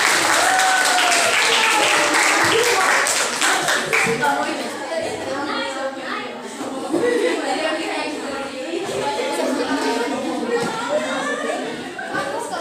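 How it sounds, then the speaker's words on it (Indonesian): A classroom of students applauds for group 3, loud dense clapping mixed with chatter and voices, fading slightly then continuing throughout. "Oke, kasih aplaus buat kelompok 3."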